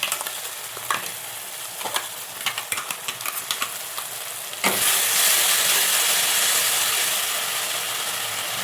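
Ground masala paste hits a hot pan for a Bombay duck fish curry with a sudden loud sizzle that roars on steadily, after a stretch of lighter frying and stirring clatter.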